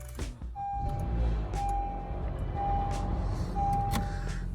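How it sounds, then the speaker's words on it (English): A 2012-2016 Honda CR-V engine hums at a steady, low idle, close by, while a soft electronic chime beeps at a regular beat above it. "Now we'll start up the vehicle."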